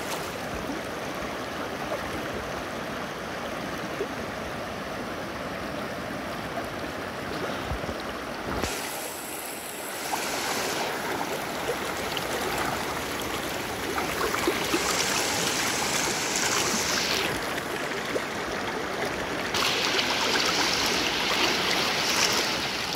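A natural waterfall stream pours with a constant, dense rushing roar, loud and close, steady for the whole stretch with brief shifts in hiss and no voices.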